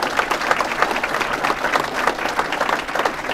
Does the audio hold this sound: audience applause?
yes